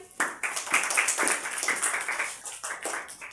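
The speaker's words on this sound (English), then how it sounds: "Clap for them" A classroom of girls claps for classmates after correct answers in a maths lesson, a short burst of irregular hand claps rising quickly, fairly close and moderately loud, with faint voices mixed in.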